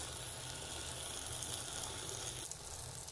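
Breakfast food frying in hot oil in a pan, a steady soft sizzle and crackle that holds evenly throughout with no talking.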